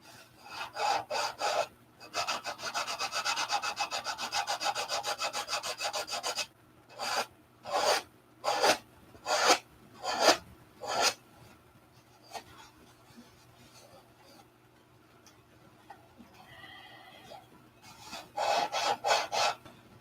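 Wood being sanded by hand in rhythmic rasping strokes: a quick steady run of scratchy passes, then slower separate strokes, a pause, and another burst of rubbing near the end.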